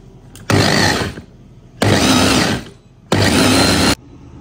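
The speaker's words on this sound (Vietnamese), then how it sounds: "Sau khi bỏ nước vào thì mình sẽ xay nha." Kitchen blender chopping pandan leaves with water, running in three loud bursts of under a second each, separated by short pauses, close up with no talk.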